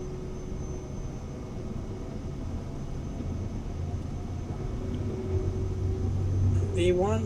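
A Microsoft Flight Simulator 2024 airliner begins its takeoff roll, its engines a steady, low rumbling drone with a thin tonal whine that swells gradually louder toward the end.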